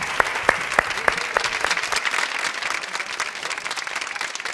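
Studio audience applause for a jazz and funk musician on a television show, opening with a few sharp individual claps that quickly swell into steady, dense clapping from the crowd.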